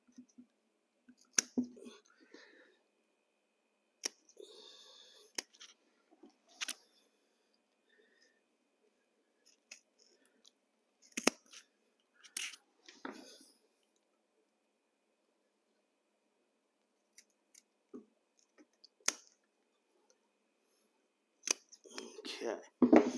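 Stair carpet being cut into a W-shaped notch for a waterfall stair, heard as scattered snips and cuts at close range, broken by pauses and occasional quiet speech.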